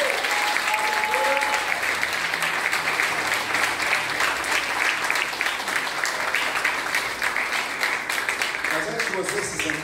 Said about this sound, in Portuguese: Você pode aplaudir o Senhor e se sentar.